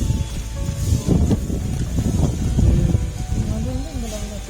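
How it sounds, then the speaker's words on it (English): Strong wind in an open spot with trees in Namakkal, a gusty low rumble buffeting the microphone while a person talks over it. "It's very windy."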